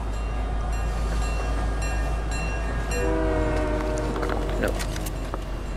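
A train in a multiplayer shooter rumbles past under a steady low drone, its horn sounding a couple of short honks midway as the noise swells and clatters.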